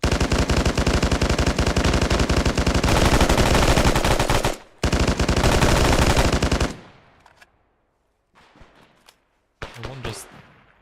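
Rapid bursts of 9.3 rifle fire in the military shooter ArmA 3, loud and close, sustained for several seconds with a brief gap, then sparse shots and scattered sounds trailing off.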